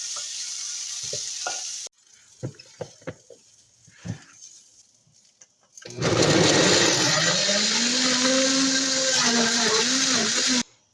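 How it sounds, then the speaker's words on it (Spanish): A kitchen blender purees tomato sauce for vegan tamales, a loud, steady whirring roar that starts abruptly about midway after a few soft clinks and handling noises, then cuts off at the end. "Ahora los incluimos en la licuadora para batirlo."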